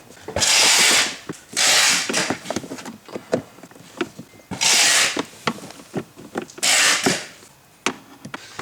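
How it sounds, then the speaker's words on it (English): Screws are driven into the plastic body of a 12-volt ride-on toy police car. Several loud, close bursts of whirring screw-driving alternate with scattered ratcheting clicks and small knocks. "Just keep screwing until it stops."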